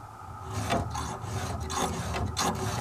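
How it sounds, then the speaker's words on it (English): A chainsaw chain is filed by hand for a touch-up sharpening in a spruce woodlot, giving four or five close, rhythmic rasping strokes in quick succession with no talk. "We probably should give a little touch-up filing."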